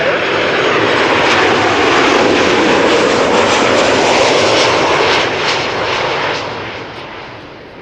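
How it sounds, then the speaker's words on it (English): Thrust reversers on a landing jet airliner at Schiphol Airport: a loud, broad roar that holds steady for several seconds before slowly easing off. "Pretty sure that the reverses will be fired."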